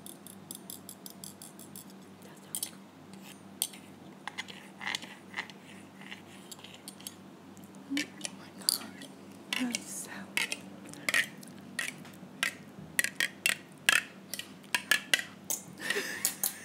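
Metal fork and other cutlery clinking and scraping against dishes during an eating session, a string of small sharp taps growing busier and louder toward the end, close up, with occasional faint vocal sounds.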